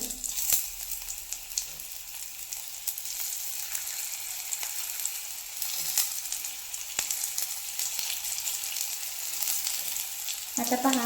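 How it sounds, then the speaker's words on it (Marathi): Stuffed bitter gourds fry gently in oil over a low flame, giving a soft, continuous sizzle with occasional faint clinks, close by; someone briefly speaks over it. "इथे आपल्याला दोन ते तीन मिनटं भाजून घ्यायचे आहे लो फ्लेमवरती"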